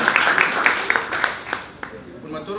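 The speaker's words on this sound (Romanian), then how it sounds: "Să-l aplaudăm pe Gabriel" Pub audience applauding a jury member at a student event, scattered clapping with a few sharp individual claps that thin out toward the end.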